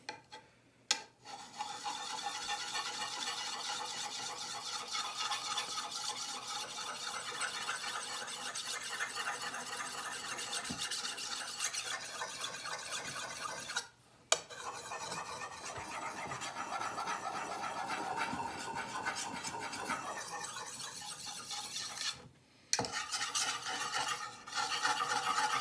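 A Condor parang blade is drawn repeatedly across a sharpening stone, producing a continuous close, gritty rasping scrape with short pauses where the blade lifts off.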